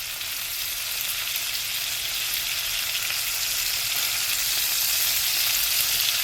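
Chicken pieces with capers fry in a pan, giving a loud, steady, close hiss and crackle of sizzling oil that holds without a break and with no talk over it.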